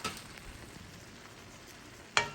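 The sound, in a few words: onion added to a frying pan with chicken gizzards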